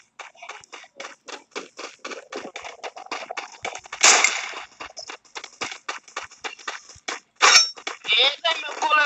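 Rapid, sharp gunshots in an online shooter video game crack in quick bursts at an uneven rhythm, with a couple of louder, longer blasts between them.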